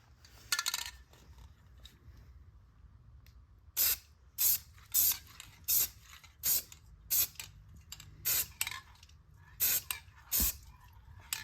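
Aerosol spray paint is applied to Jeep Wrangler parts for a 1995 YJ in short, evenly repeated hissing bursts. The bursts come at a steady rhythm, loud and close, with a brief rattle of the can between them.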